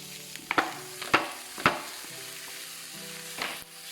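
Lardons fry in a pan for pasta carbonara, a soft continuous sizzle punctuated by a few sharp scraping stirs and clatters of a utensil against the pan, close and fairly quiet.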